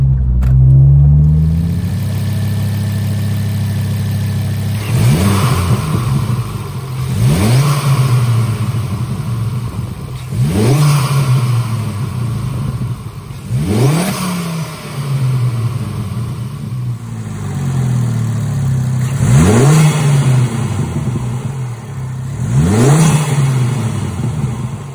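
A Ford Focus ST225 with a ProRam cone air filter is revved repeatedly while stationary, with about six sharp rises and falls of the engine note at a steady pace, loud and close, with no talking.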